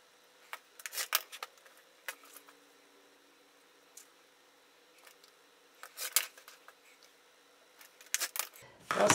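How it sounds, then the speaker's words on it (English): Scissors snip through quilt block fabric, trimming it to 10 inches, in short crisp bursts of cutting and rustling, some close together and others spaced out, against a very quiet background. "I'm going to trim it now to 10 inches"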